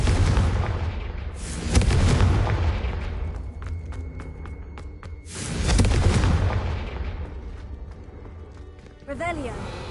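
Fiery Confringo spell blasts in the Hogwarts Legacy video game, loud booming bursts with rumbling impacts and crackling debris, two big swells a few seconds apart amid busy game noise, with a voice speaking over them.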